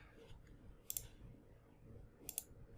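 Sharp mouse clicks while placing computers in a network simulator, two distinct click bursts near one second and again near two and a half seconds over faint room noise, with no talking.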